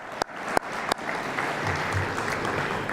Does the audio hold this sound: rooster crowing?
no